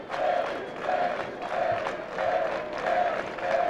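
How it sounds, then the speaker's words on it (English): A high school wrestling crowd from DeKalb chants at the state finals in rhythmic, repeating swells of voices and claps, several even pulses in a row, fairly distant and echoing through the gym. "There comes a chant from the DeKalb crowd"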